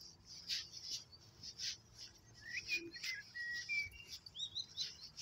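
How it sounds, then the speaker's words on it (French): Small birds chirp and whistle softly in the distance over a quiet outdoor background in a Paris park, the Pelouses d'Auteuil. "On entend les petits oiseaux."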